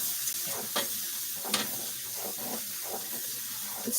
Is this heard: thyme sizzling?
yes